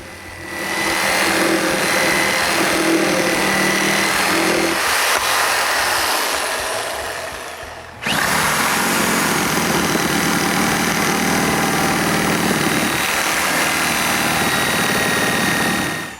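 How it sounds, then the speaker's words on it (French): A reciprocating saw cuts joints in wooden roof trusses with a loud, steady, buzzing motor drone that dips briefly midway and then resumes at full strength, close up, with no speech. "Le reste des coupes, il est fait avec le scie va-et-vient."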